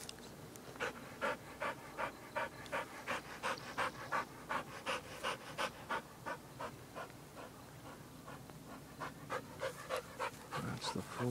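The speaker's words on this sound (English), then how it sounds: "Good dog." A dog pants rapidly and steadily close to the recording, a rhythmic run of quick breaths repeating throughout in a backyard at night.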